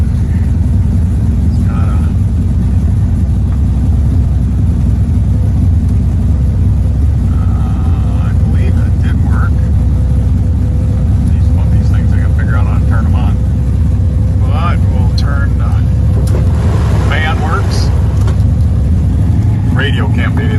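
A 1967 Chevelle SS with a 427 engine idling just under 1,000 RPM, giving a steady, loud low rumble that runs unbroken throughout, with faint bits of other noise drifting over the top.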